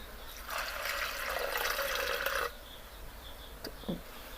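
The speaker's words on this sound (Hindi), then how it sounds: "और डाल देते हैं इसके अंदर तकरीबन 1 गिलास पानी।" Water poured from a glass into a pot of lentils seasoned with salt and cumin, a steady close splash lasting about two seconds, then quieter faint clinks.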